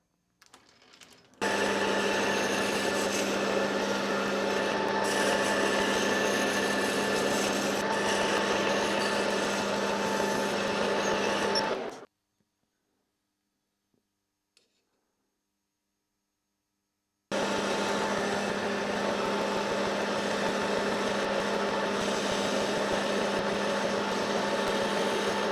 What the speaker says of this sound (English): I'm going to put an angled cut in there using the compound of the lathe.